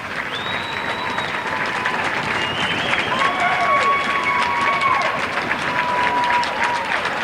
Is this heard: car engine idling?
no